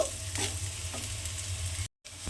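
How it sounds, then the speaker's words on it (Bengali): Short burst of sizzling and stirring as ginger, capsicum and green chilli fry in hot oil, a spoon scraping the pan, with a brief dropout near the end. "এবারে এই আদা ক্যাপসিকাম আর কাঁচা লঙ্কাটা একটু তেলের মধ্যে নেড়ে নেব।"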